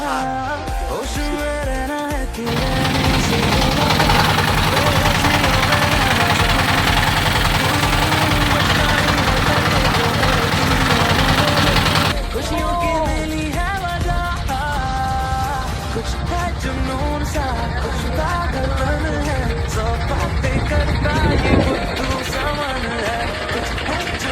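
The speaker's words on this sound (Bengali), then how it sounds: "তো আমাদের এখন মাত্র বোট নামাই দিয়ে গেল।" A boat engine runs steadily at idle with a low, continuous mechanical drone. Voices sound faintly over it as passengers are dropped off.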